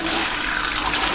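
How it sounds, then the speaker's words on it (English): Water poured from a container into a kitchen sink through a sieve, a steady rushing splash and gurgle running throughout, close and fairly loud with no talk. "I'm just going to do what I suggested earlier and pour this water away"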